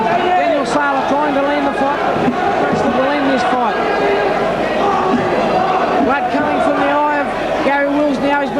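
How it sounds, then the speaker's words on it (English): Crowd screaming and roaring during round 8 of the Saylor v Wills boxing match, a loud, continuous arena din with a voice talking over it. "The crowd screaming for some action here in round 8."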